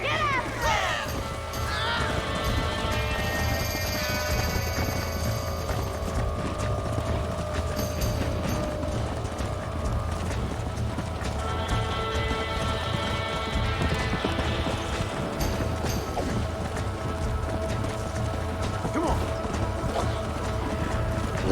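A stallion gallops in the Red Dead Redemption video game, its hooves clip-clopping steadily and loud under a busy mix of music and game effects, with an occasional whinny.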